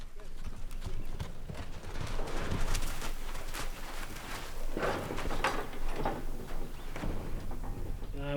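A horse's hooves clopping along at a walking pace in Namibia's Namib Desert, fairly close, mixed with rustling and some background voices.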